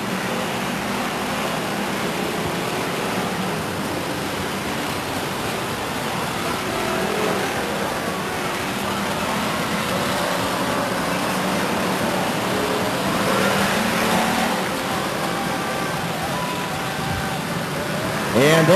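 Enduro race cars drone continuously around a speedway, a steady distant engine roar with a track announcer talking over it.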